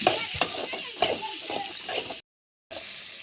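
Beetroot chutney seasoned with salt sautés in a pan while a spoon stirs it, giving repeated scraping strokes over a steady sizzle, with a brief dead-silent gap near the end.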